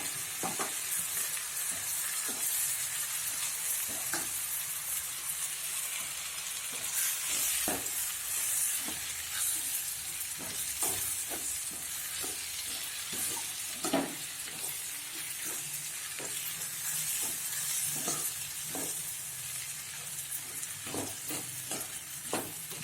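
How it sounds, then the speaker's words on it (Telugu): Fenugreek leaves and dal are stirred together in a pan, a continuous soft sizzle broken by repeated sharp spoon scrapes and knocks at an irregular rhythm, close and fairly loud with no talking. "మెంతికూర అండ్ పప్పు బాగా మిక్స్ అయ్యేలాగా కలిపేసుకోవాలి"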